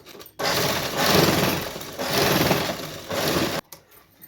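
A sewing machine stitches blouse fabric for a backless halter blouse in three steady motor bursts with brief pauses between, close and fairly loud, stopping abruptly near the end.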